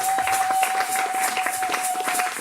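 Applause and cheering from the audience at a youth church conference, dense rapid clapping with a crowd roar, loud and sustained.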